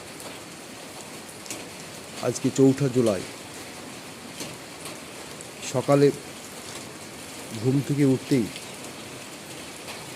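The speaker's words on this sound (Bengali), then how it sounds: "এই রাস্তায় বেরোলাম আর বৃষ্টি হয়ে যাচ্ছে।" Steady rain falls through a morning outdoors in Domkol, Murshidabad, a constant even patter of drops on surfaces that runs the whole time, with someone speaking over it in three short bursts.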